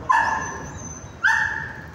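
Pet dogs give two loud, close barks, each drawn into a short yelping whine, separated by a brief pause.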